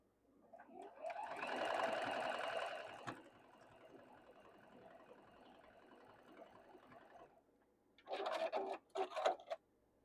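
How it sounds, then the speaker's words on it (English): A sewing machine stitches quilt block pieces together, running in a loud burst, then a softer steady whir, then a brief stop before another short, louder run. "You just keep sewing on until you have to"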